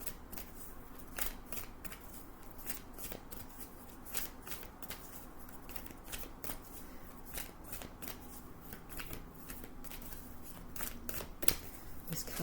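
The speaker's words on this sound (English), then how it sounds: "These cards are very big to shuffle up." Large oracle cards riffled and shuffled over and over in quick, crisp bursts, close up, with a soft voice talking underneath.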